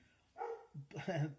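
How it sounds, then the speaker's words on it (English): A dog barks at the door indoors, two quick sharp barks in close succession, fairly near but modest in level. "that's our dog just barking at the door"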